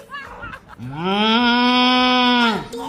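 A person imitates a cow with a long, steady lowing moo, held for over a second after a brief vocal lead-in.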